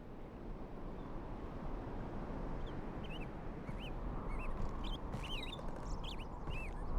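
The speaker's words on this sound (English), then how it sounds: "It's the birds, is it?" Faint, distant bird calls from the video game Riven chirp and squawk in scattered bursts over a steady, loud rushing ambience, like wind or flowing water.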